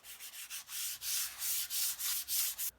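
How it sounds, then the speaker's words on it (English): Rhythmic strokes of light hand sanding on oak wood, a soft hissing rub repeated about a dozen times in quick succession, close and quiet. "I did a very light sanding on the piece before applying finish"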